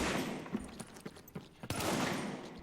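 Rapid gunfire crackles through a firefight in The Division's Dark Zone, with bursts of shots in close succession, some sharp and near, others layered in a noisy, dense exchange.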